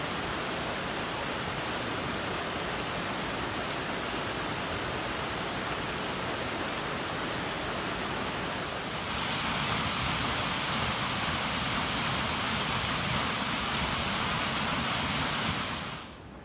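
Steady, dense rushing of creek water along the Sitton Gulch Trail in Cloudland Canyon State Park, a continuous close roar that swells slightly louder partway through.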